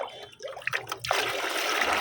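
Chickpea soaking water being mixed for plant fertilizer, heard as a soft trickle and stir that builds into a steady, close rushing pour of water, with no voices.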